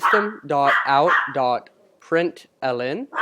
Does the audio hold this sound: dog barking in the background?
yes